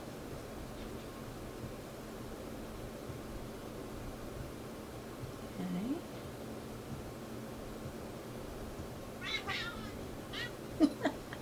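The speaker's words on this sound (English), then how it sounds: "You guys hear my cat?" A pet cat meows faintly a few times in a quiet room, with short, distant cries near the middle and toward the end over a soft background hiss.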